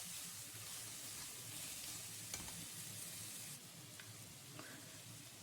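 A spoon stirs salted Chettinad mutton chukka varuval in a frying pan, steady sizzling with soft scraping and a few clinks, continuous and close, easing slightly toward the end.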